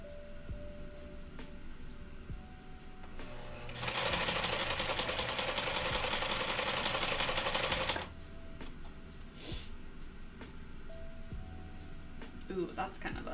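A home sewing machine runs one continuous four-second burst of rapid, even stitching on a seam, clear and close, set between stretches of quiet room sound.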